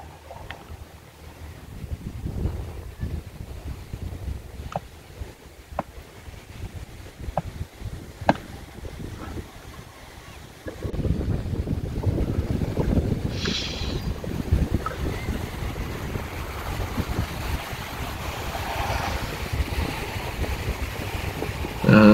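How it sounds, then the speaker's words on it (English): Sea waves and gusty wind along a shoreline, a steady rumbling wash with buffeting wind noise on the microphone that grows louder and denser partway through. "Sound of the waves,"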